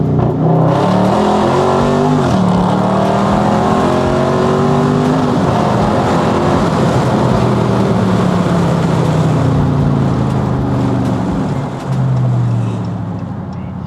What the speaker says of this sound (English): this shit sounds nicer just because the muffler delete